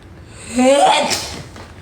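A single sharp sneeze, close and loud, bursting out after a quick inhale, then fading into quiet.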